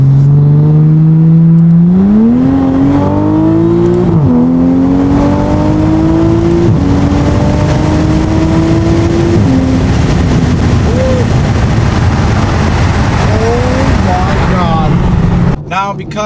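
A modified BMW A90 Supra engine revs up close and loud, climbing in steps with a sustained rising drone, then settling into a rough, gravelly roar and crackle before dropping off near the end.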